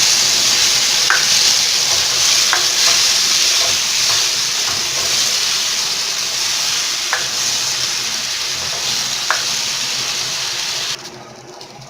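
Potato batter is stirred into a hot pan, with a loud, steady sizzle and hiss of frying that runs throughout, light scraping taps of the stirring close by, and no voices.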